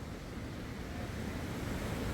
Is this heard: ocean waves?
yes